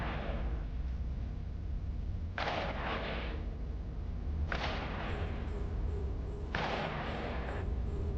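Weapons fire in EVE Online destroying cruise missile batteries in space, with three spaced volleys of whooshing, crackling shots over a constant low rumble, moderately quiet.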